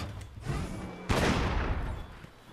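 A gunlance fires upward in Monster Hunter World, a sharp explosive blast with a booming, rumbling tail, heard alone and up close.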